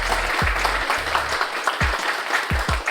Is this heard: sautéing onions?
no